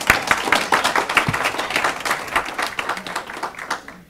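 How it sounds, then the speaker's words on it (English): Applause from an audience at an evening debate in a Chicago suburban venue, a dense patter of clapping hands filling the room steadily for about four seconds before easing off slightly at the end. "we moved to the northwest suburbs to get applause for a line like that"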